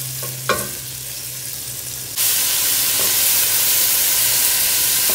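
Onion and a garlic clove frying in a pot for a vegetable and ground beef soup, a continuous hiss that starts moderate and then surges into a louder, fuller sizzle partway through, with a light clink near the start.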